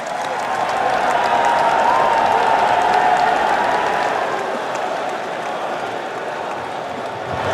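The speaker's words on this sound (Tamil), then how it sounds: "அப்போது அங்கு கூடியிருந்த தொண்டர்கள் மோடி மோடி என்று முழங்கி ஆரவாரம்" A crowd of supporters applauds and cheers at a swearing-in ceremony, a dense, sustained wash of clapping that peaks early and then eases slightly, heard without talk over it.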